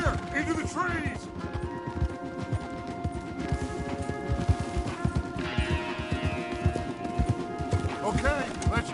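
Horses galloping in the video game Red Dead Redemption 2, a fast continuous clatter of hooves close by, with a brief whinny and voices talking over the ride.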